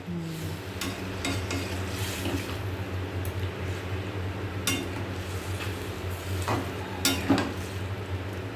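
Fried potatoes and fish added to a pan and stirred, a steady sizzle underneath with several sharp utensil scrapes and clinks against the pan, close by and moderately loud.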